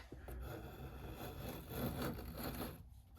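Hand tool drawn backwards along a wooden axe handle to clean off fibers, giving quiet rasping scrapes in a few uneven strokes, close and faint, with no one talking.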